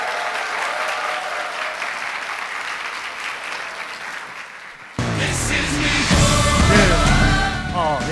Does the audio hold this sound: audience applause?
yes